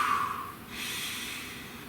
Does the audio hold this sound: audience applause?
no